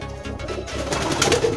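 Pigeon cooing close by in a loft where the birds are vaccinated, soft low throaty coos running through the short stretch with no talk.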